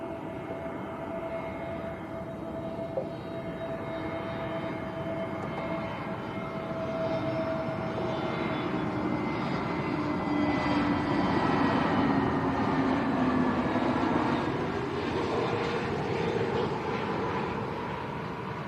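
An EasyJet airliner from Luton lands at Lanzarote Arrecife Airport, a steady loud engine roar with a falling whine as it touches down and slows, sustained throughout.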